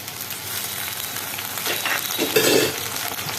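Ground ginger, garlic and green chili paste sizzles and spits steadily in hot oil, with a brief louder crackle and stirring scrape near the end.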